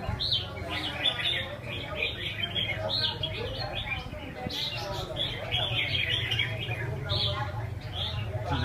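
Several small birds chirping and tweeting close by, quick overlapping high calls repeating throughout over a low background hum, with human voices faintly mixed in.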